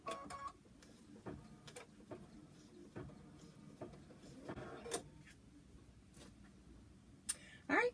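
An embroidery machine stitches a Kimberbell Kimberbear in soft, quiet bursts of mechanical whirring and clicking, broken by short pauses, with a louder clatter near the end.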